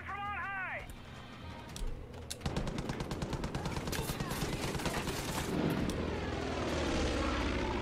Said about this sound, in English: That plane is coming after me. Look at him. He's doing drop bombs over here.